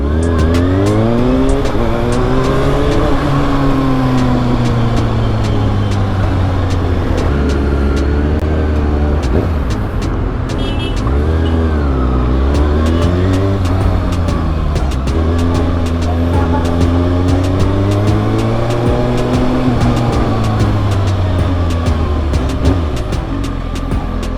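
Kawasaki Ninja ZX-6R motorcycle engine revving up and down repeatedly during an emission test, loud and close, rising and falling in pitch in long sweeps.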